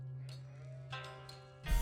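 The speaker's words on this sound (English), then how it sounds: "That was a lot of sheep that just came in for our Order of the Dragon player." Sheep in the strategy game Age of Empires IV bleat in a quick series of short, wavering calls over a low steady game hum, ending in a louder burst of game sound.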